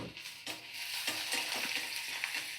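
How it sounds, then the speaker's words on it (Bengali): Chopped onions and green chillies frying in a pan and being stirred, a soft steady sizzle broken by repeated scraping strokes of the spatula, close and fairly quiet, with no one speaking. "তো ভালো করে দেখো পেঁয়াজ কাঁচা লঙ্কা আমি ভালো করে ভেজে নিচ্ছি"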